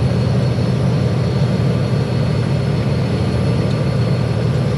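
A heavy haul truck's engine runs steadily at idle, a loud continuous low rumble with no breaks, close by and alone without talk.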